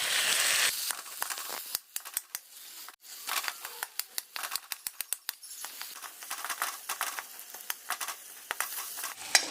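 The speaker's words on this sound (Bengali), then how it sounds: "আলু দেওয়ার পর এভাবে হাতা দিয়ে ম্যাশ করে নেব।" Boiled potatoes mashed into fried spices with a ladle while cooking ghugni: repeated close scraping and squashing strokes against the pot, irregular and busy, over a faint sizzle with no talking.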